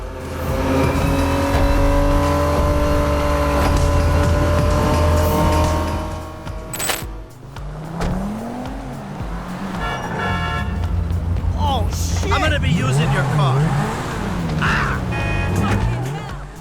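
Racing car engine from the video game Need for Speed, roaring loudly and continuously with shifting revs, tire squeal and horn-like tones over game music, with a brief dip around the middle.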